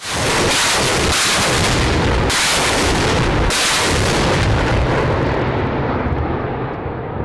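A rapid series of loud, heavy booming blasts from a BM-21 Grad multiple rocket launcher firing rolls one after another, continuous and thunderous, with roaring rumble filling the gaps and fading toward the end.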